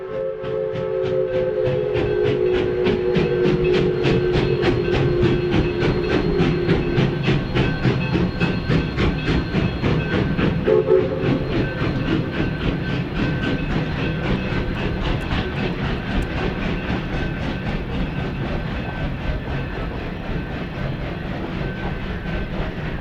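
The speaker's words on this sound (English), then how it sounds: "Our journey will commence aboard a work train on the Durango and Silverton" A work train on the Durango and Silverton line in the Animas River Gorge, Colorado Rockies, rumbling steadily along the rails with rhythmic clacking, a long whistle-like tone early on, loud and continuous.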